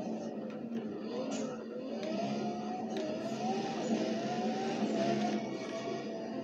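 Lamborghini engine in the Need for Speed video game on Xbox 360, a steady droning motor with shifting pitch running continuously and fairly loud, with a slight rise partway through.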